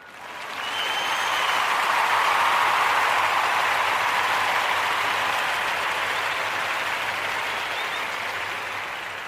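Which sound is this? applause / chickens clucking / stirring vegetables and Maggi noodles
applause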